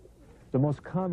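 Homing pigeons coo softly in two short bursts, a low throaty warble close by, with faint background murmur before them.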